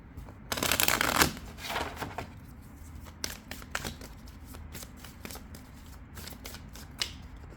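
A deck of oracle cards being shuffled, with crisp riffling bursts early on followed by lighter, intermittent card flicks and snaps at close range, no talking.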